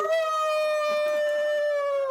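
A person imitates a wolf's victory howl during a tabletop game session, one long sustained wavering vocal howl that holds a steady pitch for about two seconds, loud and close, with faint background voices underneath.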